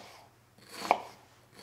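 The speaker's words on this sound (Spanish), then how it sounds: "La cebolla la pelamos, la partimos por la mitad y la vamos a cortar en juliana o en plumas" One knife stroke slicing a peeled onion into julienne strips on a board, a single short crisp cut between soft scraping sounds, close and quiet with no speech.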